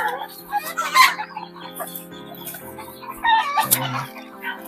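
Chickens cluck and chatter close by on a Philippine farm, several birds making short repeated calls over a low steady hum, with people talking in the background.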